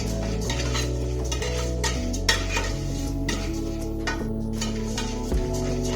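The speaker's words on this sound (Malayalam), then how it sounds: "അപ്പോൾ അരി നന്നായി വറുത്തെടുക്കണം." Rice dry-roasting in a pan for chutney powder is stirred with a utensil, giving steady scraping and light clinking against the metal with faint crackling, close and continuous, with a low hum underneath.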